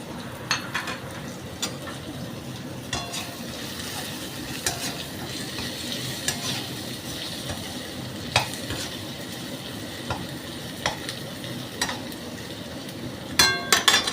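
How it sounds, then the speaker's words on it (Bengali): Mustard paste ground with green chili and salt fries in oil with turmeric and chili added, giving a steady close sizzle broken by sparse, sharp spatula scrapes and clicks against the pan. "এবার একটা একটু ভাজা ভাজা হোক এইবারে আমি ওই হলুদ আর লঙ্কাটা দিয়ে দিলাম"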